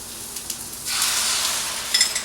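Eggs hitting a pan with spinach on low heat start a sudden bright sizzle that jumps up at once and holds steady, crackling close by with a few sharper spits near the end.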